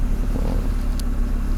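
An Audi 90 five-cylinder engine, freshly repaired, idles with a steady low rumble up close, smooth and continuous with no talk over it.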